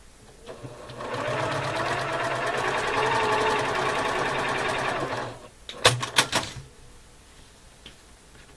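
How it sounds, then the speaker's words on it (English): A sewing machine stitches quilt block pieces in a steady, fast mechanical whirr for about four seconds, then stops, followed by a few sharp clicks and knocks of handling nearby. "you can go ahead and sew both of these on"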